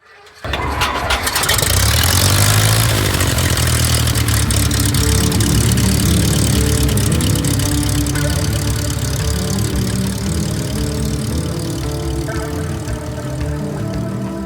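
Propeller airplane engine cranks and catches, then settles into a loud, steady idle that runs on for over ten seconds with no talk over it.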